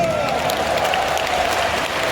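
Audience applause at an Indonesian motivational business seminar, a steady dense wash of clapping lasting about two seconds with a faint voice trailing underneath.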